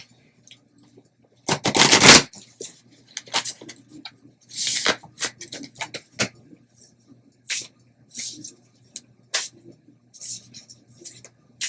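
A deck of goth tarot cards being shuffled by hand, a close series of crisp riffling bursts and soft slaps, the loudest burst early and shorter flicks spaced through the rest.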